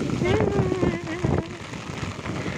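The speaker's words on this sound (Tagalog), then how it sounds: "Ang lakas ng ulan." Heavy typhoon rain pours in a steady broadband hiss, close and fairly loud, with wind buffeting the microphone and a voice speaking briefly over it.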